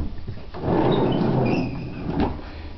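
A drawer holding bird-keeping supplies and egg trays slides open and shut with a rolling, scraping rumble and a soft knock, close by and with no talk.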